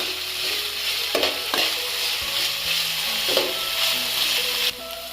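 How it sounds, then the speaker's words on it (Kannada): Chopped vegetables frying in hot oil in a pan for vegetable fried rice, a loud, continuous sizzle broken by a few scraping stirs, with no talking. "ಬೇಗ ಹಾಕಿ ಎಣ್ಣೆಲೆ ಫ್ರೈ ಮಾಡ್ಕೊಳ್ಳಿ."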